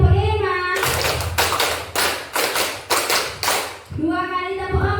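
A group claps together in a classroom counting exercise, a crisp, even series of loud claps with talking just before and after.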